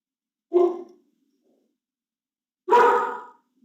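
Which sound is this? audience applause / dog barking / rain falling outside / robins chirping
dog barking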